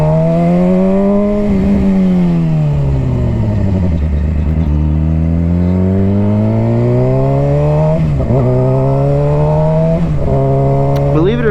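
A dirt bike engine revs up and down in long sweeping rises and falls, accelerating and braking to warm its tires, loud and close throughout with a sharp rev near the end.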